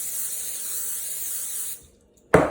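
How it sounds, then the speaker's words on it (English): Non-stick cooking spray hisses steadily onto a tray for nearly two seconds, then cuts off, followed by a short sharp clatter at the end. "I add a little bit of non-stick"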